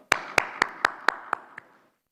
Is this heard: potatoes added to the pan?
no